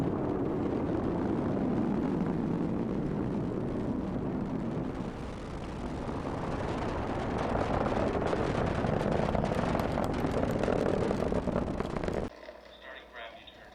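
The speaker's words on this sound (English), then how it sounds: "Liftoff of Falcon 9. Falcon 9 has cleared the tower." Falcon 9 rocket liftoff: a loud, continuous, broadband roar that holds steady and swells slightly midway, then cuts off abruptly near the end.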